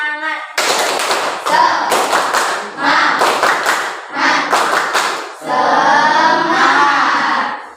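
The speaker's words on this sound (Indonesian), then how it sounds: "Mari kita tepuk semangat." A classroom group performs the tepuk semangat spirit clap, rapid rhythmic clapping in several loud bursts with short pauses, close by and filling the room, mixed with voices joining in.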